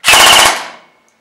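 An ICS M4 PWS Diablo airsoft rifle set to semi fires a rapid full-auto burst of about five shots, loud and close, with a short mechanical tail and no talking.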